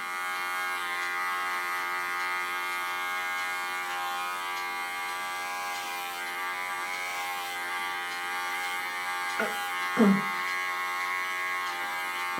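Electric hair clippers trimming along the back neckline during a haircut, a steady close buzzing hum throughout with a couple of brief louder scrapes near the end.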